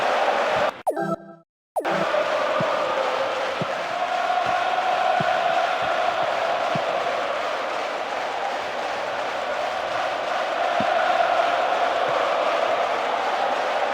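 Simulated stadium crowd in the football game PES 2009, a loud continuous roar of massed voices holding steady after a brief dropout near the start, with faint thuds of play underneath.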